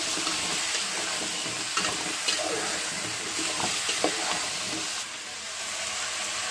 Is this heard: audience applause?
no